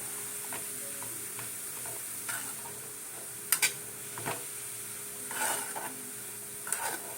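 Grated carrot being stirred in ghee for carrot halwa, a quiet, close sizzle with intermittent scraping strokes of a spoon against the pan.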